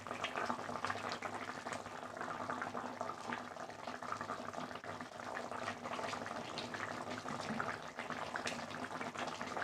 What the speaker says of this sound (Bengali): আমার তো গ্রেভিটা ফুটে গেছে